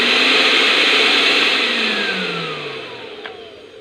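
A repaired Panasonic blender motor whirring loudly at close range, its pitch steady at first and then winding down gradually over a few seconds, with a faint click near the end.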